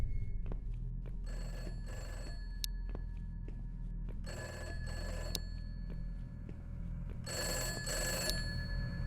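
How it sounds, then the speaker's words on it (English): An old-style telephone bell rings in a video game, Fredbear's Family Diner, in three separate bursts, each a pair of rapid trills, over a low steady background hum. "Phone ringing."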